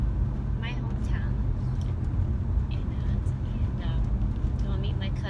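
Steady low road rumble and engine drone fill a car cabin while driving, continuous and even throughout with no breaks.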